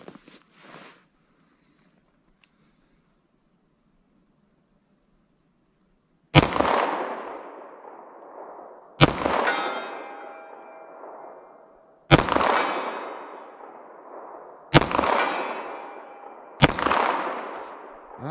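Five spaced gunshots from a 9mm pistol loaded with 80-grain Corbon Glaser +P safety slugs, fired at about 75 yards, each crack followed by a ringing metallic tone and a slow fading tail, heard at moderate distance after a quiet opening.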